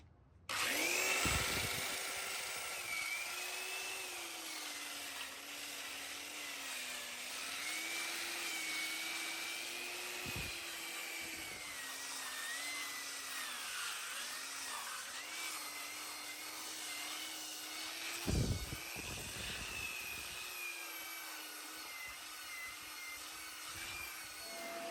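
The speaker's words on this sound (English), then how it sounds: "I've got this 6-inch Polisher's disc sander. It's got 36 grit sandpaper on it, and that's what I'm going to use to smooth most of this out with." A 6-inch disc sander fitted with coarse 36-grit paper smooths wood in a continuous, close whine that rises and falls in pitch as pressure changes, with brief dips where the disc eases off or lifts from the surface.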